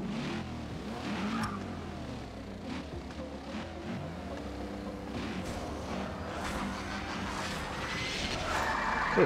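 Racing car engine in the Forza Street mobile game revving up at the start of an event, with rising and falling engine pitch, loud and close, and brief skidding tire noise.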